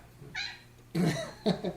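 Cats yowling and caterwauling in a fight, a rising wail followed by two louder bursts of screeching, fairly close and heard without any talk.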